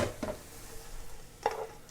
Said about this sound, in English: My tofu is cooking.